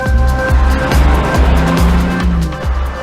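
A 2018 BMW X3 M40i with an 8-speed Steptronic transmission and 500 Nm of torque accelerates hard, its engine loud and close, with rising revs repeatedly cut off in quick, regular steps.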